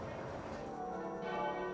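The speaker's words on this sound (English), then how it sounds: "The bells tolling for Her Majesty at St Paul's and at Westminster Abbey, and at cathedrals and churches here in Rochester, Kent, across the land." Church bells toll in mourning for Queen Elizabeth II at cathedrals and churches in Rochester, Kent, a steady ringing with sustained resonant tones over faint background murmur.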